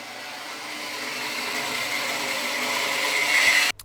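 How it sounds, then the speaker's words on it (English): A metal boost pipe collector for a Nissan Skyline R32 GT-R being trimmed by a power tool, a steady high whine building slightly for several seconds before stopping abruptly. "let's go for trimming this collector down"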